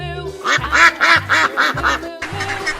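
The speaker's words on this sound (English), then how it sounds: "Duck." A duck quacks close by in a quick series of about five or six loud, evenly spaced nasal quacks, followed by one more after a short pause.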